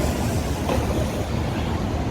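A Chicago elevated train approaches through foggy downtown, a loud steady low rumble and rattle that holds throughout with no talk.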